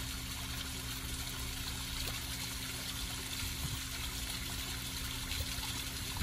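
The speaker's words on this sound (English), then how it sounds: "now that we have the cascade on and our skimmer is filling up with water" Water from a backyard pond cascade runs and trickles into a skimmer, a steady, continuous splashing wash with no pauses, heard close and alone.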